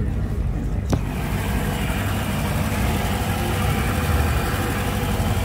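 The inboard engine of a 2004 Tige 22V boat runs steadily after a cold start, a loud, even rumble throughout with a brief click near the start.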